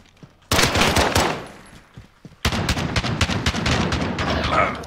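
Automatic gunfire in the Modern Warfare video game, with a loud close burst of rapid shots, a brief lull, then a second sustained volley of fast, crackling rounds.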